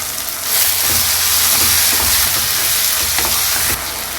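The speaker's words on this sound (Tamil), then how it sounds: "இதையும் கொஞ்சம் நல்லா சாஃப்டாக வதக்கிக்கலாம். கொஞ்சம் உப்பு சேர்த்து வதக்கலாங்க." Tomatoes sauté with salt in a hot pan, a loud, dense hiss of frying that swells after half a second and holds steady, with soft scraping stirs through it.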